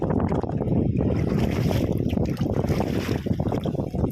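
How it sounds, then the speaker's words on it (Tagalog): Strong gusty wind buffets the microphone in loud, rumbling bursts on a rocky shore, with a faint voice underneath and a sense of open water. "Medyo malakas yung hangin"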